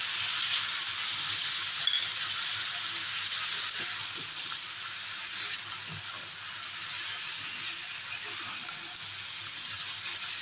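Boal fish curry with salt, turmeric, Kashmiri red chilli powder, chilli paste and a little water cooks in a pan, giving a steady hissing sizzle with faint occasional stirring taps, close and even throughout.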